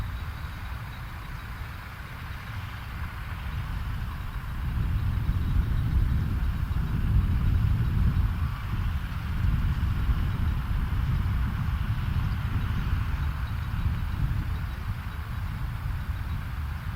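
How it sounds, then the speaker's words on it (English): A tractor engine fires up at a ploughing match in an open field. It settles into a steady, rumbling low idle that gets louder after a few seconds and holds constant, with no talk over it. "One tractor firing up."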